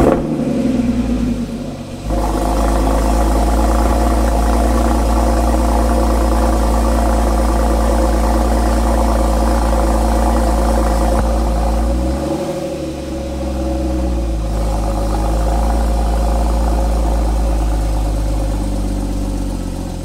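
A Porsche Cayman S (981) engine drones loud and close while driving, a steady low hum with a brief dip and pitch swell midway before settling back to a constant cruising tone.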